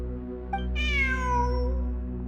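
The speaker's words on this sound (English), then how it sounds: "Look, a cat." A single clear cat meows in the Genshin Impact video game, a drawn-out, rising-then-falling call heard alone over a low, steady ambient hum.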